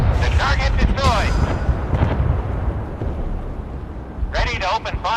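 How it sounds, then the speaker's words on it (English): Warship guns boom and explosions roar in a naval combat video game, dense heavy blasts rumbling continuously with sharper bursts at the start and end, loud and close under spoken voice commands. "Fire on command. The target destroyed."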